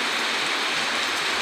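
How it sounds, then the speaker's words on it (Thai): Heavy rain pours steadily outside the front of a house, a dense, even hiss of falling water with no pauses and no voices. "ฝนตกแรงด้วย ฝนตกบรรยากาศดีจังเลยค่ะ"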